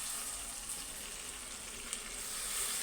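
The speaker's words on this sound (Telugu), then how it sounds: "కొత్తిమీర యాడ్ చేసి ఒకసారి అయితే తిప్పేసుకోవాలి" A pan of chicken fry with fresh coriander added gives a steady, even sizzle throughout, quiet and close, with a faint stir or clink near the end and no talking.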